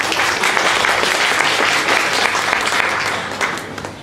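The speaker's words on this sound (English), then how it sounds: "Please give her a round of applause" A room of attendees applauds at a formal event, sustained close, dense clapping that holds steady throughout before easing slightly at the end.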